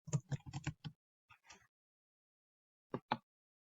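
Close computer keyboard typing of a single word: a fast burst of five or six key clicks, a couple of softer taps, a pause, then two final keystrokes, crisp against silence.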